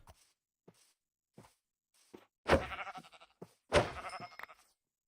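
A horse in Minecraft gives two loud, strained whinnying cries a second apart, with soft clicks and steps scattered around them.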